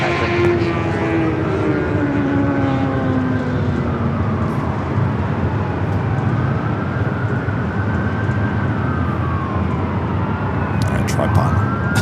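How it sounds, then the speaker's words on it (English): An Airbus A319 airliner takes off at LAX, a loud sustained jet roar with sweeping engine tones that shift in pitch as it climbs away, continuous for the whole stretch. "A319 and next takeoff."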